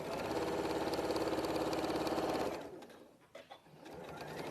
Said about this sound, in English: all we're going to do is sew over our lines with a straight stitch